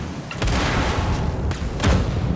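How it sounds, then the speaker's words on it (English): Secondary explosions rumble through a level of the shooter Wolfenstein: Youngblood, a sustained low boom with a couple of heavier thuds swelling near the start and again toward the end, loud and unbroken. "Oops, forgot about the secondary explosions."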